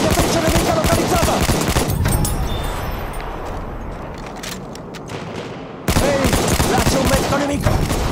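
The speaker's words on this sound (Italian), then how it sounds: "Mitragliatrice nemica localizzata!" Enemy machine gun fire in Battlefield 1 multiplayer at Caporetto: loud, sustained rattling bursts that ease off in the middle and then slam back in at full intensity, dense and close with distant battle rumble.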